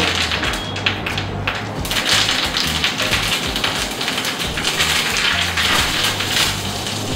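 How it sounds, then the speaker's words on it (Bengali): Curry leaves, dried red chillies and black mustard seeds hitting hot oil, a loud dense crackling sizzle with rapid pops that rises sharply at the start and then stays steady, close by, with no talk. "তো এবার ফোড়নটা দেব"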